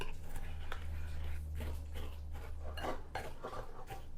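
Neiman Marcus casserole is mixed in a dish: a utensil scrapes and knocks softly and repeatedly against the dish over a steady low hum.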